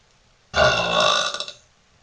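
A single loud, close burp let out with the mouth wide open, lasting about a second and trailing off in a few ragged pulses, with nothing else around it.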